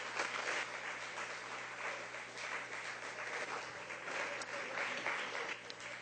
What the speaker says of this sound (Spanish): Le damos un aplauso a ese Dios que vive y reina